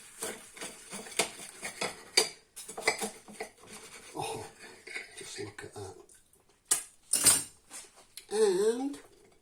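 A knife cuts through a stacked breakfast sandwich, producing scraping and crunching strokes with bursts of clinking against a plate or board. Someone talks over the first part.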